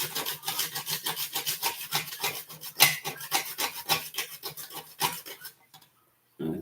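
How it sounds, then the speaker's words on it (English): Nutmeg is rasped against a grater in quick, even back-and-forth strokes, a dry scraping rhythm close by that stops abruptly near the end. "I got the nutmeg to grate it there."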